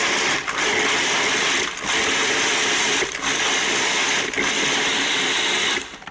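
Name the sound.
Cuisinart food processor chopping brown sugar and cinnamon topping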